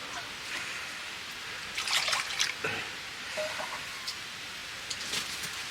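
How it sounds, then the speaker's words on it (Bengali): Half a kilo of water poured into a cooking pot to start a sugar syrup, a steady trickling splash with a few brighter bursts partway through, close and moderately loud with no talk. "এই যে জল দিয়ে দিলাম, আধা কিলো জল।"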